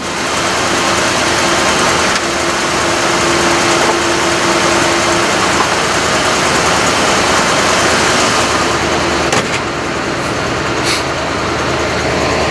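A 1984 Cadillac Eldorado Biarritz engine with a stumbling issue runs steadily at idle, a loud close low rumble that holds even throughout, with a couple of brief clicks near the end.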